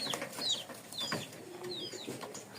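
Giribaj pigeons kept in a cage give several soft, brief calls and wing rustles at close range, with a few sharper chirps scattered through a quiet background.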